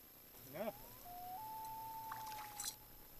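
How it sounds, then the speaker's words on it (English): A common loon calls out on a lake during a hot August morning of muskie fishing from a small boat, one long steady wavering tone held for a couple of seconds, moderately clear over faint water and boat noise. "There you can hear my friend the loon."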